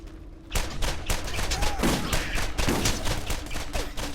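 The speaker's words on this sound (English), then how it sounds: "Fire rate on this pistol's pretty nice too." Rapid pistol gunfire in the Borderlands video game: a fast run of sharp, loud shots in steady rhythm over several seconds, with a few pinging ricochet or impact sounds mixed in.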